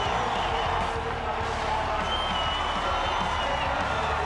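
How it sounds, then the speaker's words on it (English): A large racetrack crowd roars and cheers continuously at Darlington Raceway as Bill Elliott wins in 1985, a dense, sustained wash of voices and applause with no break. "The crowd they are just really responding to this"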